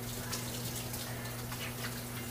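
Hands are washed under a running tap in a kitchen, with a continuous, even rush of water over a low steady hum and no talking.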